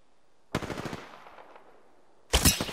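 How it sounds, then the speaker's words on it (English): Video game gunfire in two short, loud automatic bursts, a rattling volley followed by a decaying tail and a quiet gap, then a second sharp burst at the end. "Opening fire."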